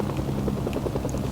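Helicopter in the Mercenaries video game, a steady, close rotor thrum with rapid chopping pulses filling the whole moment, loud and unbroken, no voices.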